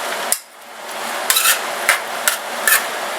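Canned mushrooms stirred in a metal cooking pot, a sharp clank followed by several scraping, knocking strokes of a utensil against the pot, close and fairly loud with no talk.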